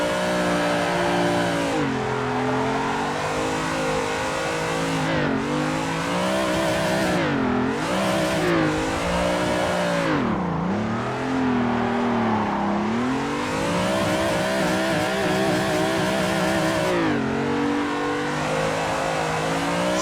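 Car engine in Assetto Corsa held high and revving continuously through a long drift, pitch rising and dipping with throttle lifts and gear changes, loud and steady throughout.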